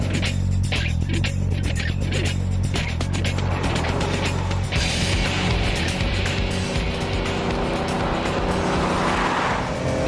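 A Bugatti EB110 sports car drives hard and loud, its engine note climbing and dropping as it brakes and downshifts, with shifting roar and tyre noise throughout and no talk.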